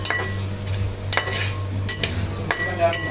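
Green apple pickle masala stirred in a pan, a low sizzle under repeated scraping strokes of a spoon, each stroke a short clinking scrape about every half second, close and fairly loud.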